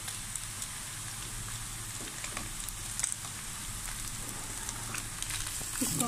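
Sliced capsicum and carrots stir-frying in a pan for egg fried rice give a steady, close hiss and sizzle, with a few light scrapes of stirring throughout.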